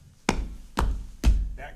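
Three sharp, separate thumps spaced roughly half a second apart, each with a low, heavy body, made close up by a foley artist imitating footsteps during a percussion performance of Miss Nelson Is Missing!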